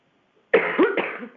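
A person with a cold coughs several times in quick succession after a brief silence, close and fairly loud, with a throaty rasp.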